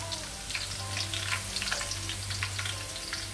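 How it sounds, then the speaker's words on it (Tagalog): Onion sizzles and fries in a pan for lamb biryani, with a steady, close crackling hiss and small popping bursts and no talking. "Pinride ko na yung onion."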